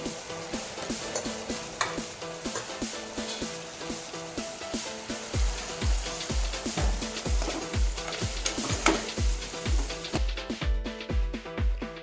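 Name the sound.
mixing coriander-cumin, turmeric and red chili powder into dal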